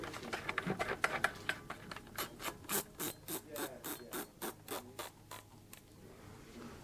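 A nut being threaded onto the fore end of a gas-operated shotgun during reassembly, a close series of rhythmic rasping, ratcheting metal turns that grow steadier, then fade.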